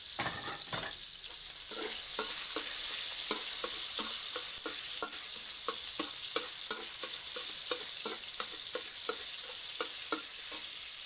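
Vegetables stir-fried in a pan with the rice-draining water from old-style Thai rice cooking, a constant bright sizzle with regular clicking scrapes of a spatula repeating in a steady rhythm throughout.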